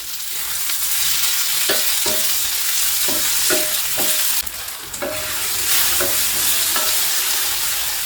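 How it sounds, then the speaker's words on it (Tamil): Chopped medium-sized tomatoes sauté and sizzle in a pan for an egg mass dish, with a steady frying hiss broken by repeated spatula scrapes and stirs at an even rhythm. No one speaks. "இந்த தக்காளியை நல்லா வதக்கிக்குவோம்"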